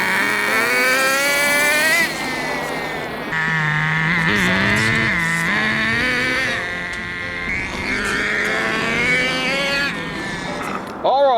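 An FTX Torros nitro RC truck engine running, a loud buzzing two-stroke whine that rises and falls in pitch as the throttle is blipped, with short drops in level between revs.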